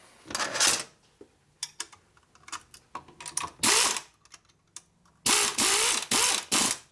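Stiff, galling threads being forced together during a Harley-Davidson shovelhead engine rebuild give bursts of metallic ratcheting and grinding, close and loud, separated by short pauses and quieter clicks.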